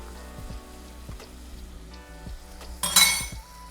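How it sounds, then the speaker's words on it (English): Garlic frying in a pan for chicken pot pie, a soft steady sizzle broken by scraping stirs and a few light clinks, with a brief bright hiss of louder sizzling near the end. "We're just going to stir this together and cook it for about another minute until the garlic gets fragrant"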